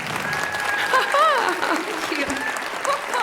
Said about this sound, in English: Can I please another round of applause for the amazing Gunhild Stordalen and the wonderful EAT team.